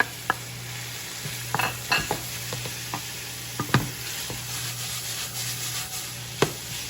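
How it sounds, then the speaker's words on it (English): Garlic, onion and pepper sautéing for enchiladas, a constant soft sizzle under scattered utensil clicks and scrapes against the pan, several sharp taps spread through. "Stir that up and let the vegetables cook up nice."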